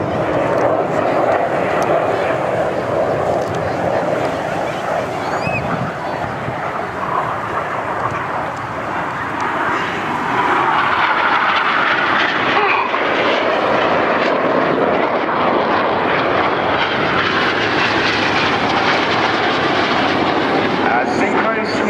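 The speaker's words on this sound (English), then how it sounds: "Here they come, the white smoke is on, red one pulling the formation up." Aerobatic display jets fly in formation, trailing white smoke, at the Bournemouth Air Festival, a loud sustained engine roar filling the whole stretch and swelling about halfway through as they pass.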